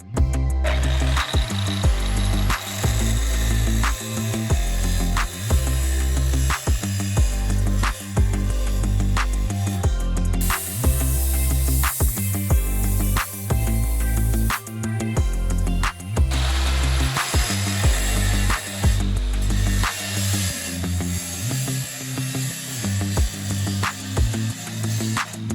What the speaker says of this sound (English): I started by cutting the 2mm, 1-inch square pipes to size based on the measurements, length 30 inches into 4 pieces.